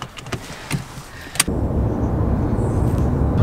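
A car pulls into the visitor center parking at Red Rock Canyon, Las Vegas. A few light clicks and rattles come first, then steady road and engine rumble fills the cabin, close and even.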